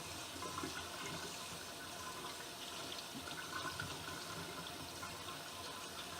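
Tap water runs steadily into a kitchen sink while garden vegetables, including a pepper, are washed, a continuous hissing splash at low level with no talking.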